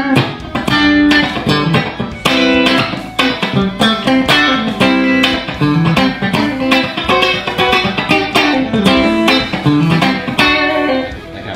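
An electric guitar with neck and bridge pickups mixed plays busy chords and riffs with a rich, slightly driven tone, continuous and loud throughout with no talking.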